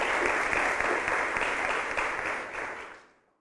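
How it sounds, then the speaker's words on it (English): Audience applause at a Jamaican national schools debate semi-final, a dense sustained burst of clapping that fills the room, steady for about three seconds before quickly tapering away. "Give him a round of applause."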